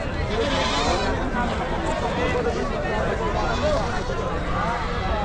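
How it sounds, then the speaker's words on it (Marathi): Goats bleat repeatedly at the Chakan goat and sheep market in Maharashtra, mixed into a dense, continuous crowd din with voices nearby. "इकडं पण शेळ्या आहेत. वेगवेगळे शेळ्या आहेत."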